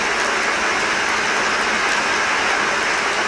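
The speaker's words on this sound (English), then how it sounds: "So if you're fond of the beautiful sound of rain, then you can do that." Rain plays as an iOS 15.1 accessibility background sound, a steady, even hiss of falling rain that fills the whole stretch, with no voices.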